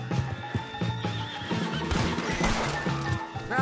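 A horse whinnies loudly in the video game Red Dead Redemption 2 with a shrill, wavering call, accompanied by hoof clatter and busy background commotion.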